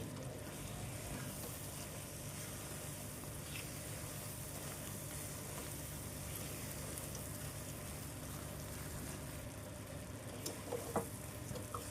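Bobbatlu filling being stirred in a pan over low flame with ghee and cardamom powder, a steady soft sizzle and scraping stir running continuously at close range, with a few sharper clicks near the end.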